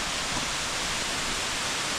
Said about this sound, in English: We're at a waterfall in Tahiti.